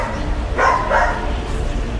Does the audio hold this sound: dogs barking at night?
yes